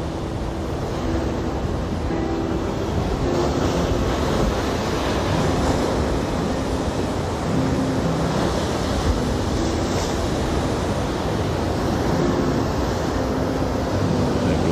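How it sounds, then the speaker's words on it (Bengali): Sea waves pound the beach at Teknaf, Bangladesh, in a continuous loud roar of surf with steady wind buffeting the microphone throughout. "কারণ ঢেউ একটু পরপর আছড়ে পড়ছে।"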